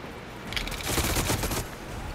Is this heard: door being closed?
no